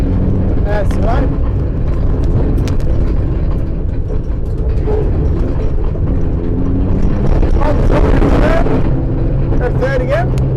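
A rally car driven hard through tight corners and a hairpin, with the engine roaring loud and continuous and the pitch shifting through braking and acceleration, under frequent close talk from an instructor.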